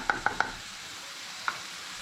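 Tomato puree being stirred into a chicken pathia curry in a pan, three quick scraping clicks of the utensil followed by one more after a pause, over a faint background hiss.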